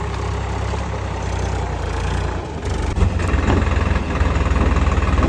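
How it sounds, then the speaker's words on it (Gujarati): A new tractor drives a rotary tiller through a castor field, its heavy diesel engine rumbling steadily and loud with a rhythmic low throb, the churning growing slightly stronger toward the end. "આરી રોટરી મશીન કહેવાય ભાઈ."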